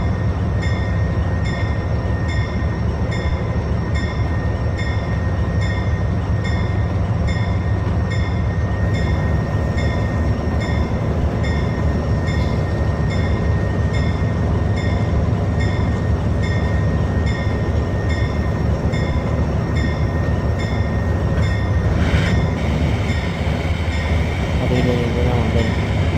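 The Barendra Express, running from Rajshahi to Chilahati behind a locomotive, rolls along in a loud, continuous rumble with rhythmic wheel clatter. The noise is heard close from on board the train and holds steady throughout.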